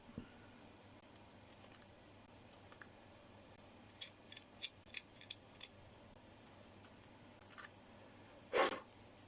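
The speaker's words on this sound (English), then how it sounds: "Now I'm going to use my knife to trim that a little bit" A knife trims plastic near a rotor, making a quiet cluster of short, crisp cutting snips and scrapes close by, followed by one longer, louder scrape at the end against a faint background hum.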